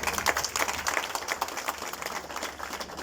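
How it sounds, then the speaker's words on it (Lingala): A crowd applauds an ambassador at a ceremony at the DRC embassy in South Africa, with dense, steady clapping that carries on for the whole moment at moderate volume. "Si nous pouvons acclamer pour son représentant, l'ambassadeur"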